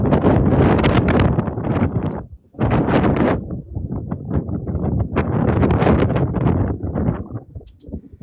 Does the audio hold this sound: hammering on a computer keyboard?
no